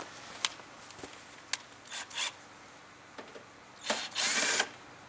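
Short bursts of a power drill backing out small screws from a home air conditioner panel, several brief whirring runs spaced apart with a longer final spin, close and fairly quiet.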